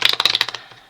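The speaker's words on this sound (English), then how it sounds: "So one more shuffle," Tarot cards being shuffled, with a quick run of crisp, close riffling flicks that speeds along and then trails off into quiet.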